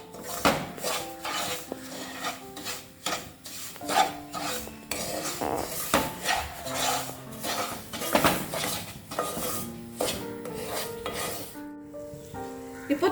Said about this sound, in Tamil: ரவையை நல்லா வறுத்துக்கணும்.